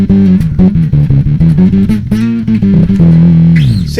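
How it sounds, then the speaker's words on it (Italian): Electric bass runs through a preamp drive with an octaver engaged, giving a loud, gritty, continuous riff of short repeated notes with a thick low octave underneath, playing alone. "prima ti ho fatto sentire il drive del pre quando c'era ancora inserito l'octaver"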